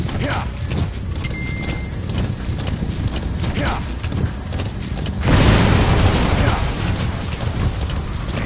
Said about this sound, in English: That explosion.